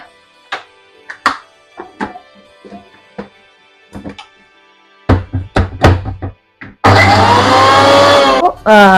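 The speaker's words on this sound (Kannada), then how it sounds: "ಅದು ಮಿಕ್ಸಿ ಮಾಡಿದ ತಕ್ಷಣ ನೀರಾಗ್ಬಿಡತ್ತೆ" A kitchen mixer grinder blends watermelon into juice at home, preceded by several sharp knocks and thuds as pieces go in, then the motor whirs up into a loud, steady grinding roar for about two seconds before stopping.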